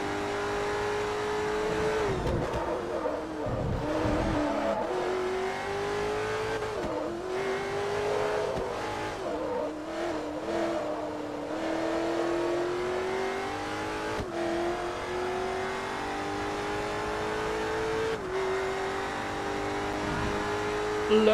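Race car engines roar in Forza Motorsport 3 during an R2 Class world championship race, a steady high-revving drone rising and dropping through gear changes, with brief tire squeals, continuous and fairly loud for twenty seconds.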